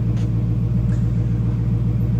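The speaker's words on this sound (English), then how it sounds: "They called it surround sound exhaust." A steady, deep engine rumble from the V8 exhaust of a 2012 Ford Mustang Boss 302 with a 5.0L Coyote engine idles continuously, loud and close, with a low throbbing pulse and no voices.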